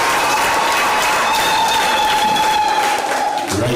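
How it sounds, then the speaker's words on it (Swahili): A church congregation at a Full Gospel service applauds, a steady, dense wash of clapping that holds at an even level throughout and thins slightly near the end, with a faint sustained tone running beneath it. "Tupige makofi Elder Peter anapokuja."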